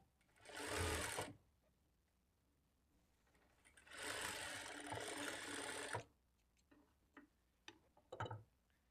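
A sewing machine stitches joined blouse strip pieces in two bursts of rapid, close whirring, with quiet handling clicks and small knocks between runs and no talking.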